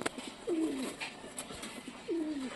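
Pet pigeons kept by a hobby breeder coo twice, each a soft rolling call close by, with a quiet gap between and faint background noise.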